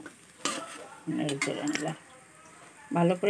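A spoon stirring spice paste in a cooking pot, sharp metallic scrapes and clinks in short bursts, close and fairly loud over a quiet background.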